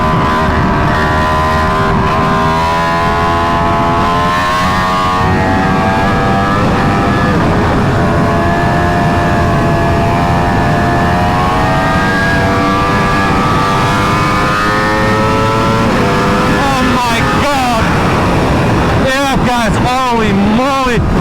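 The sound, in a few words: BMW S1000RR motorcycle engine while riding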